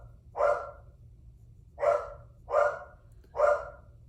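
A dog barks four times from a moderate distance indoors, with a single bark followed by three more in quick succession, with no talk.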